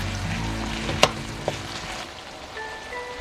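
Tomatoes sautéing in a pan for Filipino fish sarciado give a steady close sizzle and crackle, with a couple of sharp utensil clinks against the pan partway through.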